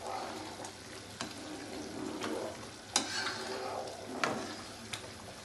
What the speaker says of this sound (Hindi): उसको मैंने फुल फ्लेम पे ही रखा हुआ है और मैं लगातार चलाती जा रही हूँ